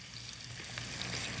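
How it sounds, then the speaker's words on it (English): Steady, close sizzling of potatoes frying in a hot pan, a constant crackling hiss with no talking. "Yeah, you want to hear that sizzle."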